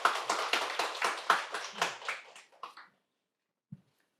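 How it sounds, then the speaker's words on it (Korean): Applause from a small audience at an open data forum seminar, a brief burst of distinct individual claps close by that thins out after about three seconds, followed by a single faint tap. "큰 박수 부탁드리겠습니다."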